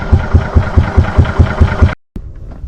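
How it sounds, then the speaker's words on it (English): The 10 hp Kohler engine of a 1969 Cushman Town and Fairway Golfster golf cart runs with a steady, throbbing idle pulse, loud and close, then cuts off abruptly, leaving a brief quieter tail. "Cushman Town and Fairway 10 horsepower golf cart."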